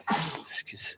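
A single sharp human sneeze bursts out close and loud, followed by a short breathy catch, with no talking over it.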